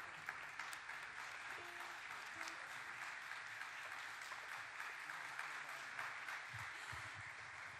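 An audience on a Turkish television music show claps steadily, a full, sustained wash of applause with scattered sharper claps, lasting the whole stretch without voices.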